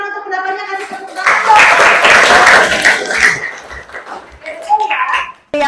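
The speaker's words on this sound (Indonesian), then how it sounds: "Kasih tepuk tangan." Classroom applause from children, a burst of clapping that swells loud and dense after a brief spoken prompt, then fades under an adult voice talking near the end.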